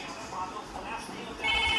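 A toy phone rings with a short electronic melody near the end, loud and close, following quieter room noise with a voice in the background.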